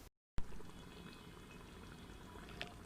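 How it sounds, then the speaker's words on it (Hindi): Water is poured into a pan of simmering dal mash, a soft continuous pouring and sizzling wash after a brief silent gap, with a small clink near the end. "इसमें थोड़ा सा पानी मिक्स करेंगे ताकि ये हमारी दाल बिल्कुल अच्छे तरीके से तैयार हो"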